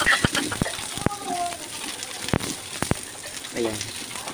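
Onions hit a hot pan of browned garlic for pork adobo, giving a steady crackling sizzle with sharp pops and spatters while a person talks nearby.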